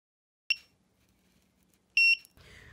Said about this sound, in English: We can use them with buzzers.